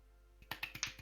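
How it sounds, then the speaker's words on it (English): Very quiet applause of a few soft hand claps, about five faint sharp claps in a quick uneven rhythm after a moment of near silence. "The tiniest applause ever."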